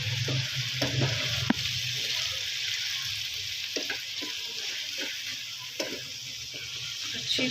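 Tomato puree from about three medium tomatoes fries for chicken karahi, sizzling steadily while a spoon stirs and scrapes the pan in occasional bursts, with a faint watery hiss underneath.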